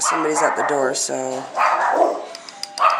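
A dog barks close by in a short burst of sharp, rapid barks, with a few softer yips afterward, while someone talks over and between them.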